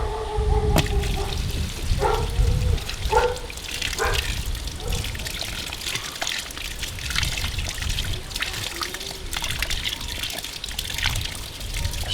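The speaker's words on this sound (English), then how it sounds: "Just having a bit of loss of water," Water running from a tap as it is unscrewed, a continuous trickling pour with a few clanks and knocks early on, fairly close.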